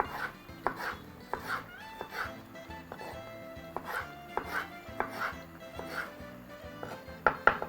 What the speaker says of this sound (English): Next up, proceed to slice those into some strips.